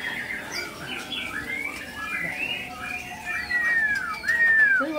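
Bulbul birds, sooty-headed and straw-headed, being released outdoors give scattered squawks and chirps, ending in a couple of clear rising and falling whistled calls over a steady background hum.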